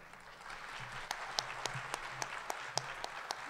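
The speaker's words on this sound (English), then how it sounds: "So give a round of applause to the Chief of Staff to Marilita Cruzen, former Alderman Steve Conway." Steady audience applause at a community program gathering, with a few distinct louder claps standing out near the microphone over the broad wash of clapping.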